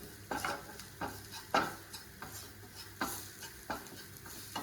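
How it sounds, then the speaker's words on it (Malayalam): A spoon stirs fish masala with salt and ground fennel in a pan, giving soft rhythmic scrapes about once a second over a faint, steady sizzle, quiet and close with no voices. "വീണ്ടും നന്നായിട്ടൊന്ന് യോജിപ്പിച്ചെടുക്കാം."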